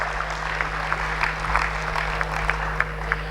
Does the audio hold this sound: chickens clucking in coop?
no